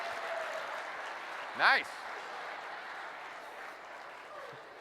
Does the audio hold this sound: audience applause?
yes